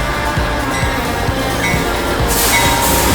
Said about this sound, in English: when you're cruising at about 80 miles an hour like this, and you hit some of the rails that aren't exactly the smoothest in the world